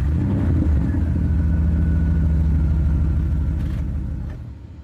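A Fiat Marea 2.0 20v turbo five-cylinder runs with a steady, deep engine rumble close by at a lakeside, holding even and loud before easing off near the end; no voices.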